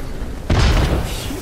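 A grenade goes off in Apex Legends as a single loud, deep boom that strikes suddenly after a quiet moment, then rumbles and fades over about a second.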